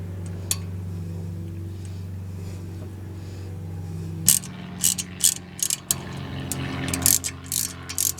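A ratchet clicks in short, close bursts while tightening a brake caliper lock bolt on a 2002 Mercedes-Benz CLK 430, following a stretch of low hum and a faint knock.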